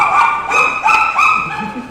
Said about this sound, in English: somebody brought their dog to the store, and Ninja Cat is out there fighting it.